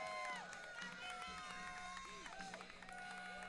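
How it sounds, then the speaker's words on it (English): A crowd at a high school varsity baseball state quarterfinal cheers and shouts from the stands, a steady mix of many voices with scattered whistles and yells throughout. "Let's hear it from the crowd."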